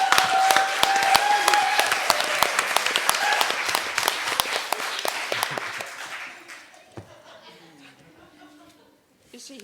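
Audience applause with scattered chuckles at an evening book-festival talk, dense loud clapping for about six seconds that thins out and fades, with some voices murmuring.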